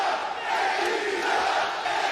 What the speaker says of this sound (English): getting a lot of praise from the crowd here today